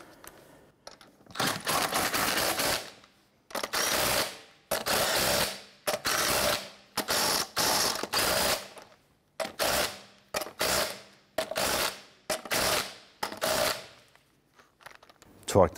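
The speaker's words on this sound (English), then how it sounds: "Let's go ahead and snug those down." A hand ratchet snugs down the lug nuts on a 1999–2004 Jeep Grand Cherokee front wheel, clicking in about ten close, rapid bursts separated by short pauses.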